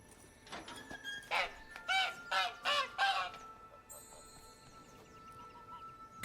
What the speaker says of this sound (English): Okay, nothing else except just to release the goose.